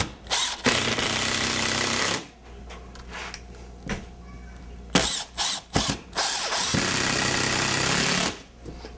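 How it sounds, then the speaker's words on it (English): A power drill drives screws into pre-drilled window framing board, giving loud whirring bursts of several seconds each, separated by short pauses and a few brief clicks. "Now I have these pre-drilled. I'm just gonna set it in place and run my screws."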